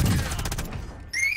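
Rapid gunfire in Call of Duty Warzone on Rebirth Island, a dense burst of loud close shots through the first half that fades into quieter distant firing, with no talking.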